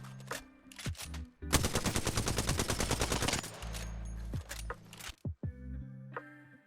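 Alternator SMG in a video game firing a long rapid automatic burst, flanked by shorter clicks and bursts of gunfire, fairly close and alone without talk.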